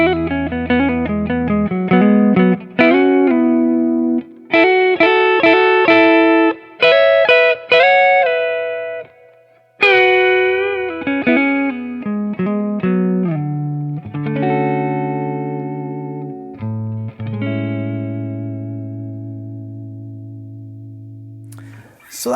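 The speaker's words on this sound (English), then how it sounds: "So that's a beautiful sounding neck pickup." Electric guitar through a Zebra coil neck pickup plays a clean, ringing run of notes and chords with sustained tones, pauses between phrases and long decays toward the end, alone without talk.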